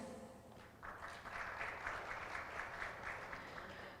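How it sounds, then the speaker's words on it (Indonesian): Audience applause at a tourism panel event, a steady wash of clapping that swells after the first second and holds evenly, moderately distant. "boleh diikuti dengan tepuk tangan yang meriah Tribuners"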